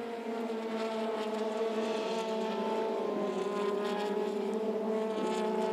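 Formula Renault Eurocup race cars at the Hungaroring circuit, a steady high-pitched engine drone with layered whining tones holding for several seconds, continuous and fairly distant with slight pitch shifts as cars pass.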